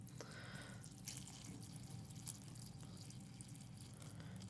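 Water trickling and dripping out of the bottom of a homemade charcoal filter bottle, a faint, continuous patter with scattered drops, heard close up and alone.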